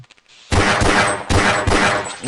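Gunfire aimed at alien parasites in Half-Life, two loud close bursts of rapid shots, each lasting under a second, separated by a short break, preceded by a few faint clicks.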